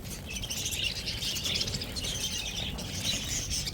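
Lovebirds chirp and tweet continuously at moderate distance over a low background hum, with no talking.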